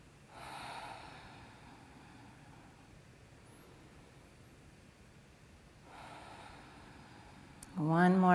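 Deep, slow breathing during a yoga session: two long, soft airy breaths spaced several seconds apart in a quiet room, with a voice starting up right at the end.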